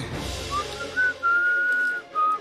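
A person whistles in a kitchen: a few short tonal notes, then one long held note and a shorter one, clear and close, with soft kitchen background beneath.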